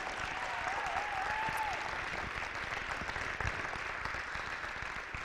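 Sustained applause from a high school football championship celebration crowd honoring the athletic director, moderately distant and steady, with a brief voice or whoop near the start.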